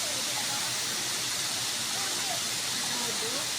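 A tall waterfall pours steadily in a broadband rush that stays constant throughout, with faint voices just audible beneath the roar.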